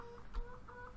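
Faint, distant hen clucking from the chicken coop in the farming video game Farming Simulator 2013, with a few short soft clucks over a quiet background.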